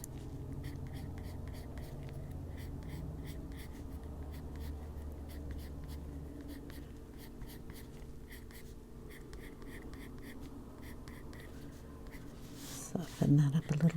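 Colored pencil strokes softening lines on paper while coloring a bunny drawing, a faint steady scratching in quick repeated strokes, with a few louder handling bumps near the end.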